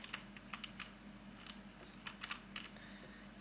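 Typing on a computer keyboard while coding a web page: quiet, close keystroke clicks come in irregular bursts and short runs, with brief pauses between them.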